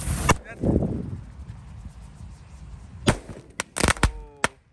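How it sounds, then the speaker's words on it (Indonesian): A Bima Sakti 3 firecracker goes off with a sharp crack at the start, then a hissing burn, followed by a cluster of loud bangs and pops near the end, close and bright. "Lanjut kita nyalakan mercon Bima Sakti 3, guys."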